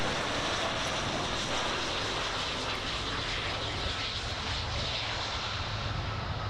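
A Boeing 747-400 airliner at Miami International Airport gives a loud continuous engine roar, a broad steady rushing drone that holds through the whole stretch.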